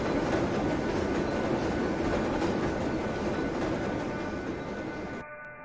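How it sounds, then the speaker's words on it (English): A Minecraft subway train of IRT stock, a South Ferry bound 1 train, rumbles along with steady loud rolling and clattering wheel noise, fading and stopping sharply near the end. "This is a South Ferry bound one train."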